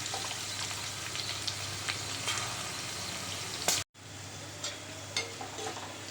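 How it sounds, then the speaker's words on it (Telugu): Steady crackling sizzle of cashews frying in oil, close and continuous, with a brief cut to silence near the end before the frying resumes. "బాగా ఇట్లా నూనెలో కనుక వేగితే బాగుంటుంది"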